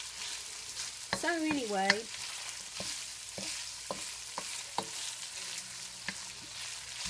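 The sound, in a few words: onions frying in a pan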